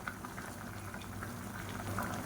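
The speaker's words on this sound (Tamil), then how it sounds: "இப்போ நல்லா கொதிக்க ஆரம்பிச்சிருச்சு" Water for biryani boils in a pot, a steady close bubbling hiss with soft popping, quiet and continuous with no talk.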